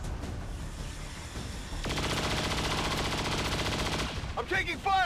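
Sustained automatic gunfire from the XCOM Long War 2 video game, a dense rapid burst lasting about two seconds amid steady game background noise, with scattered chirpy effects afterward.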